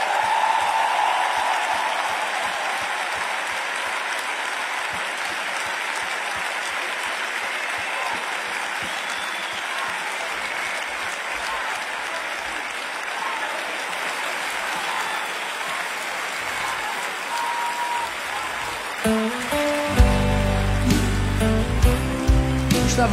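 Guests at a thirtieth birthday party give a friend a long, loud round of applause, steady clapping for most of the stretch before it thins out and gives way to louder, bass-heavy music near the end.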